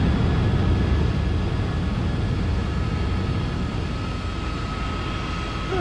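Steady broadband drone of an aircraft engine in the X-Plane 10 flight simulator during a flight from Heathrow to Geneva, a continuous even roar with a faint high whine and no talk.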